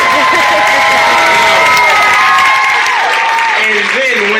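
A crowd at a concert claps and cheers loudly together as a song builds to its peak, a dense, sustained roar with shouts and whoops rising over steady applause.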